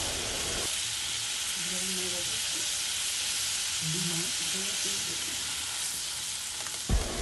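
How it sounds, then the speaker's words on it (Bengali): Eggs fry in hot oil in a pan, giving a continuous hissing sizzle throughout, with faint voices briefly in the background and a small knock at the end. "ডিমগুলো প্রথমে ভেজে নেবো"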